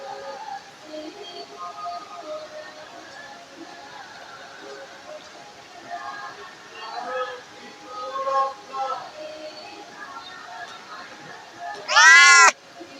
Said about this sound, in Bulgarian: Котката.